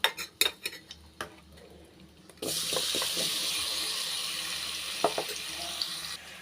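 A few utensil clinks, then a little water pours steadily into a kadai with potatoes and oil for several seconds, with occasional light taps.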